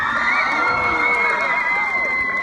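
A convention audience at a San Diego Comic-Con 2018 Miraculous Ladybug panel cheers and whoops in a steady, dense roar of voices, sustained and fairly loud with no pauses.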